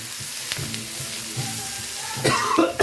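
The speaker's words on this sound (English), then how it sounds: "So we're just going to move it and fry it" Garlic frying in a pan alongside peppers for a chilli con carne, giving a steady close sizzle with a brighter crackling burst near the end, and no talk over it.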